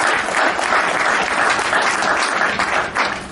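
High school students applaud themselves in a brief, dense burst of close, loud clapping from a crowd, without talk.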